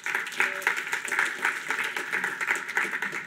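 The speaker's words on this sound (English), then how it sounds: "I want a big round of applause to Facebook for hosting us" Audience applause in a hall at a D programming language conference opening keynote, a steady wash of many hands clapping that holds at an even level throughout.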